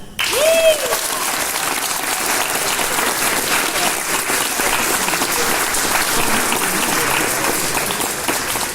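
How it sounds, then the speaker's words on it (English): Audience applause fills a high school auditorium after a stage production, steady dense clapping from many hands sustained for about nine seconds, with a brief whoop near the start. "So let's give a round of applause for them."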